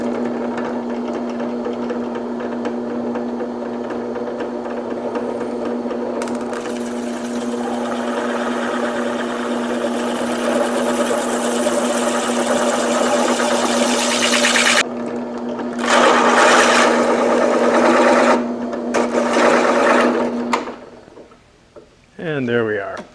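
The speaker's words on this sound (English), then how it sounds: "I have a piece of plexiglass on my drill press with my hole cutter, and I'm going to cut out a piece for the spotlights" A drill press fitted with a hole cutter spins up and cuts a disc from plexiglass, giving a steady motor whine with a loud, grinding cutting stretch that breaks off near the end.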